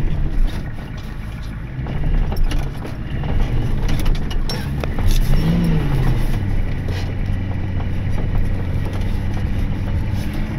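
A stuck tow truck's engine revs in slow, rising and falling swells, droning low and steady under wind noise with a brief louder surge midway.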